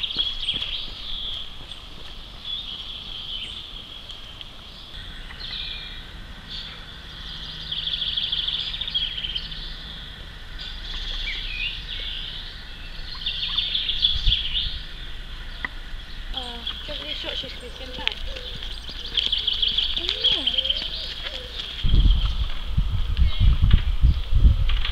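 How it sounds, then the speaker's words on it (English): Birds chirp and sing outdoors in a quiet churchyard in Hungerford, with occasional faint rustling and a low thump near the end. "Just going to let you listen to the bird song in the churchyard."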